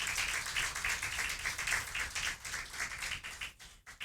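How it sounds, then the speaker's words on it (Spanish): A church congregation applauds in praise after a Spanish-language sermon, with steady, fairly soft clapping that runs several seconds before thinning out near the end. "Dele un aplauso al Señor."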